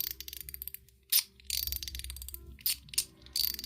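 A Zero One EDC POD-L Mechanical three-level slider, a small handheld fidget gadget, clicks sharply at close range. Crisp detents come in short bursts with brief gaps between them, against a very quiet background.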